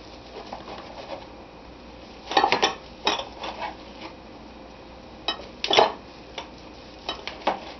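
A knife chops cooked brisket on a board in a home kitchen, with bursts of quick, close knocks and clacks separated by quieter pauses.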